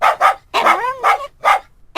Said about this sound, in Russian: Привела и стала лаять.